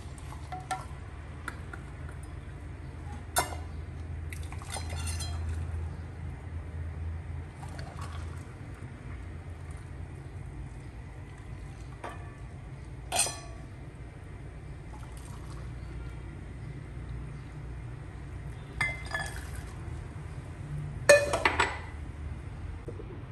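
Boiled water poured into three dishes for a mixed jelly fruit cream dessert, with a few sharp clinks of dishware standing out over a low, steady background hum.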